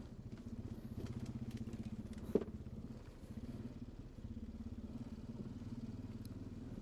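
Honda Foreman 500 ATV engine putting along a trail in second gear, a steady low-pitched throb with even pulsing, close and moderately quiet, with a single sharp clack partway through.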